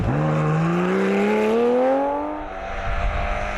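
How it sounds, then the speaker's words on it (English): A Porsche 911 rally car's engine howls as it accelerates hard through the gears on a special stage, its pitch climbing steadily before easing off, loud and close, with no talk. "the fantastic sounding Porsche 911 of Adrian Kermode and Maurice Beckett"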